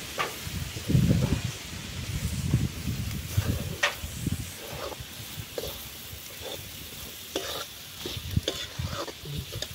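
Garam masala being fried and stirred in a pan for mutton sukka over a wood-fired stove: soft continuous sizzling with repeated scraping stirs of the spoon, close and fairly quiet.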